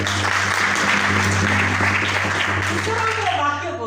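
A congregation claps hands together at a Christian worship gathering, a dense, continuous patter of many palms under a voice, with a low steady hum beneath.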